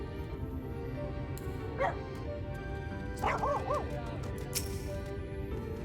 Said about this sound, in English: This dog and the animation.